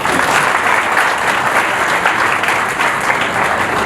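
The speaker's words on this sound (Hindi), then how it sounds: "दुर्गा माँ के स्वागत में ताली मारो।" A large devotional gathering claps together to welcome Durga Maa, dense steady applause filling the whole stretch at close range with no pauses.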